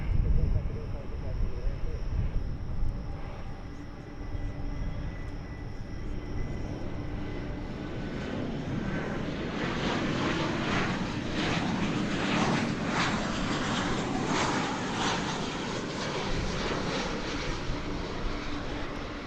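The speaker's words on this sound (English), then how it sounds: "You saw a plane in the background coming in on runway 17 center over there on the other side of the airport." Fixed-wing airliner coming in to land on a runway at DFW Airport, a steady distant engine roar and rumble that swells slightly toward the end, with talk present in the background.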